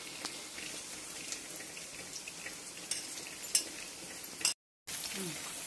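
Taro root frying in a pan for a village-style tamarind curry, a steady close sizzle and crackle with a few sharper pops and clinks of stirring, briefly cutting out near the end.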